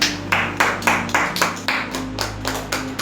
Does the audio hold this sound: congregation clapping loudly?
yes